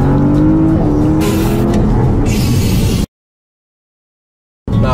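A car accelerates hard in Sport Plus mode to overtake, its engine roaring loud and close for about three seconds. The sound then cuts to silence and returns briefly at the end.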